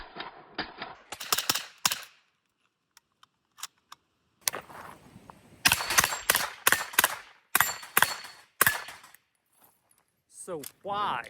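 A Heckler and Koch SP5 SBR, a short-barreled roller-delayed blowback pistol-caliber carbine, fires a series of sharp, loud shots, some single and some in quick pairs, separated by silent gaps. A voice follows at the end.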